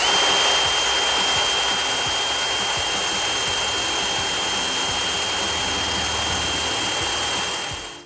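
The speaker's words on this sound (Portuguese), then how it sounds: "Nesse momento a gente está fazendo o furo aí com uma broca Heller, né, uma broca de 3/8" A DeWalt DCD130 cordless drill bores through a metal plate with a 3/8 Heller bit, giving a loud, steady high-pitched whine that holds for about seven seconds before dropping away at the end.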